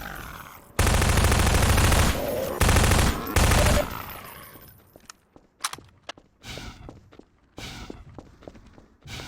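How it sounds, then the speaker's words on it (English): Sniper rifle shots at zombies in Half-Life 2 Episode 1: several loud, sharp shots with echoing tails, sounding close. Scattered thuds and footstep-like impacts follow at a lower level. "It also gives the player a chance to watch zombies get sniped up close and from various angles."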